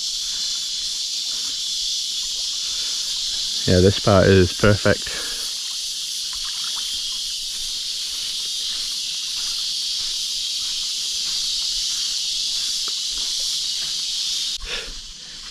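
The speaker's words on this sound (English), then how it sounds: "Hear all the loud insects in there." Loud, steady insect drone from the jungle around El Nido in the Philippines, a dense high buzzing that runs the whole time, with someone talking briefly near the middle.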